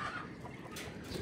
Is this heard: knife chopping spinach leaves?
no